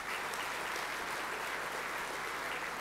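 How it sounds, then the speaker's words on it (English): An audience at a club gathering applauds, a dense, even wash of clapping hands that holds steady throughout without any talk. "So a big round of applause for those guys too."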